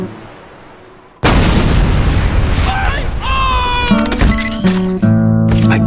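A heavy caliber tripod-mounted gun opens up with a sudden loud blast, followed by sustained roaring fire and ringing mechanical tones.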